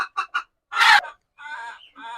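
A desi hen clucks in a hen house, first with three short clucks close by, then a louder squawk and a drawn-out, wavering cackle.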